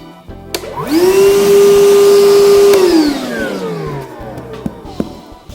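A Milwaukee M18 cordless wet/dry vacuum, model 0880-20, switches on with a rising whine, runs at a steady loud motor drone for about two seconds, then powers down with a falling pitch, followed by a few faint clicks.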